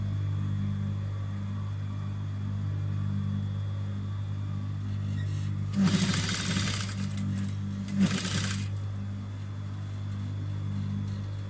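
A sewing machine stitches the neckline of a wrap dress, its motor giving a steady low hum throughout, broken by two short, louder bursts of rapid stitching near the middle.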